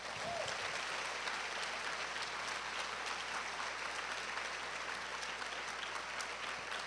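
Church congregation applauding in a continuous, even roar of many hands clapping, sustained throughout at moderate distance with a faint crowd murmur.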